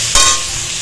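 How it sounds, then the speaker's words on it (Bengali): Onion, green chili and garlic frying in a pan, a steady close sizzle with a brief louder burst of stirring near the start, no talking. "পেঁয়াজ আর এই যে কাঁচা লঙ্কা আর রসুন, এগুলো একটু ভেজে নেব।"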